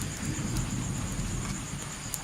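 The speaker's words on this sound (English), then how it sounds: "A very wet night here tonight. Very dark. Lots of thunder." Heavy rain pours steadily at night, a dense close hiss with low rolling thunder rumbling underneath and occasional sharper drops, with no voices.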